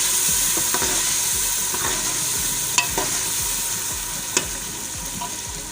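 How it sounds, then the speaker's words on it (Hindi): Green chillies and peas sizzle steadily in a hot pan while a spoon stirs them, with a few sharper scrapes and taps of the spoon against the pan standing out over the continuous frying hiss. "इसको चम्मच चलाते रहें ताकि ये जले नहीं"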